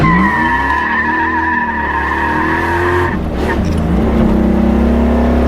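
A third-generation Chevrolet Camaro with a Hughes 3000 stall torque converter spins its tires, loud engine roar with rising revs and harsh tire squeal, the pitch dropping and climbing again.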